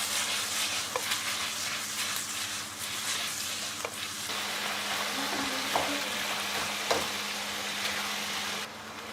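Steady, dense sizzling of thinly sliced chicken breast frying on high heat in a hot pan, continuous and fairly loud, with a low hum beneath and occasional clinks from stirring.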